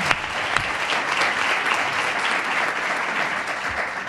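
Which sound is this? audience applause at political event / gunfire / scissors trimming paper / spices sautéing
audience applause at political event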